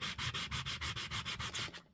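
Abrasive strokes sanding a glossy magazine page to wear away its shiny coating, about a dozen steady, rhythmic back-and-forth rubs close to the mic, alone and ending abruptly.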